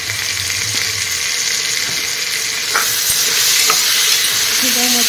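Ginger-garlic paste with ground cumin, coriander and garam masala sizzles steadily in a hot pan, a dense bright hiss with occasional stirring scrapes and a brief low hum near the start.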